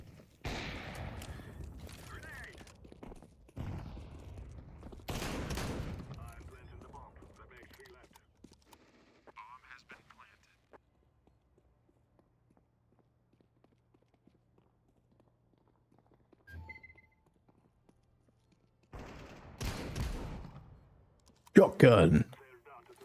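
Shotgun fire in the Entropia Universe video game comes as a few separate loud bursts with long quiet gaps between them, mixed with players talking.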